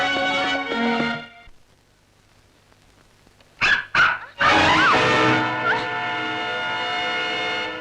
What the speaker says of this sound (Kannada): ಇದು ನಾಯಿನೇ.